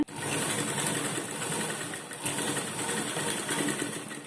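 A sewing machine runs in fast continuous bursts while stitching cut fabric pieces for a lined blouse, a close rapid mechanical chatter with a brief pause midway.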